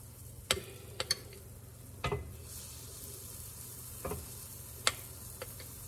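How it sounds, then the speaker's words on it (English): Aebleskiver batter cooks in a pan with a low, steady sizzle, broken by a few sharp clicks and taps of a utensil against the pan. "put some more batter in here and just let them cook"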